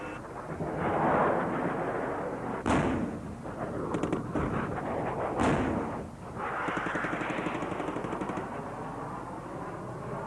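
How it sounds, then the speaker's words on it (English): Harrier jets making attack runs at an air display over an airfield, a loud continuous roar of jet engines with sharp bangs and crackling blasts from the mock attack on a target village, no talk. "The 10 aircraft attack from different directions, which is quite realistic."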